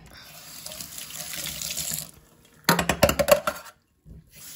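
A trumpet part rinsed under a running sink tap: a steady gush of water for about two seconds, a pause, then a brief burst of splashing water with clinks, close and fairly loud.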